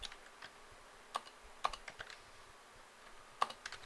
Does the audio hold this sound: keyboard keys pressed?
yes